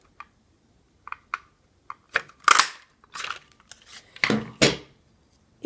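A paper punch cuts through stamped paper along a line, giving several short, crisp snips and clicks, scattered and irregular, with a denser run of louder cuts near the end, close and alone without talk.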